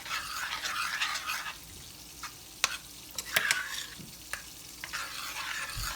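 Sloppy joe mixture being stirred in a frying pan on the stove, with scraping and wet sizzling that comes and goes in irregular strokes at close range; a few sharp clicks of the utensil against the pan and no talking.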